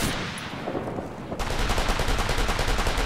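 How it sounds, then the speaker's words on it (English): Sustained military gunfire in the tactical shooter Operation Flashpoint: Red River, loud overlapping rifle shots and bursts with a sharp rise midway, no speech. "Engaging contacts and taking fire from the north and east."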